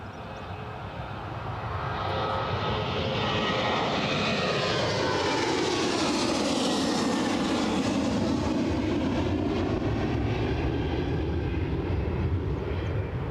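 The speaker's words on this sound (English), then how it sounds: "A nice flat departure. Makes it easier to track." An airliner makes a flat departure from the runway at Newcastle International Airport: a loud, steady jet engine roar that swells up, then holds its rushing drone as the aircraft climbs away, with a slow shift in pitch as it passes.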